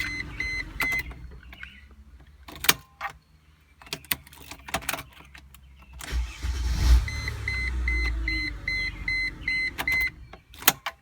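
The engine of a 1999 Mercedes-Benz ML320 cranks and starts, rising to a steady idle near the car, with warning beeps chiming over it and door and key clatter before.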